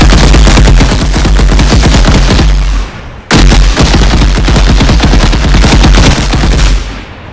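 A primal penguin in ARK Survival Evolved sprays rapid, loud machine-gun fire in two long continuous bursts separated by a brief gap, dense and close-sounding, with no speech.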